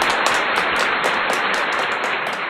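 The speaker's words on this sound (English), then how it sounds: "Let's give them another round of hand clap." Another round of hand claps for the panelists from a studio audience, a dense, steady wash of many hands clapping at close range, continuous and fairly loud with no voices over it.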